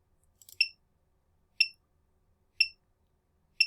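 Four short, high electronic beeps, evenly spaced about a second apart, clean against near silence.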